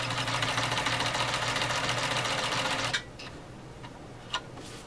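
An OMEGA 307 sewing machine stitches at low speed with a steady, even whir for about three seconds, then stops, leaving a few faint clicks and taps.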